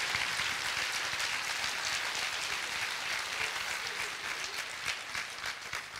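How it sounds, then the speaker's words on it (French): An audience gives a sustained, dense round of applause for the 2023 Master CCA graduates at their diploma ceremony, loud and steady throughout. "Et on peut les applaudir bien fort."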